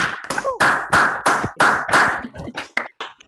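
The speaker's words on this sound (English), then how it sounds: "give each presentation a round of applause" A few people clap in uneven bursts after an online presentation, close and fairly loud, the scattered claps thinning out toward the end.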